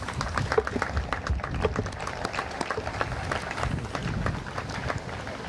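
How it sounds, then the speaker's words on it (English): Audience applause at an outdoor health and safety expo for a run/walk event: scattered hand claps over a busy, noisy crowd background, fairly steady across the stretch with no speech on top. "Let's give them a round of applause as well."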